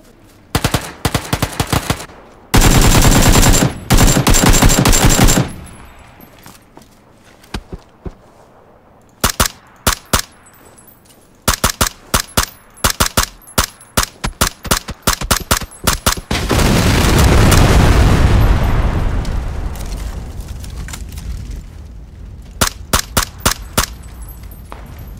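Gunfire rings out in PUBG on Xbox One, with loud, close bursts of automatic fire and single shots broken by pauses, and a sustained rumbling blast partway through that fits a grenade explosion.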